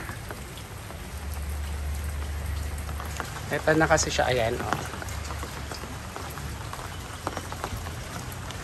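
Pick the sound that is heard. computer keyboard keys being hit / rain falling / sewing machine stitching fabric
rain falling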